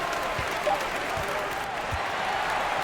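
A home crowd applauds a basketball victory at a FIBA World Cup game between Brazil and Turkey, a broad, steady wash of clapping and cheering from a large arena crowd, with a few low thumps underneath.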